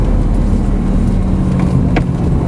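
Lamborghini Gallardo braking hard and downshifting to second on the Folembray racing circuit, heard from inside the car as a loud, steady roar of engine and road noise with a brief sharp transient near the end.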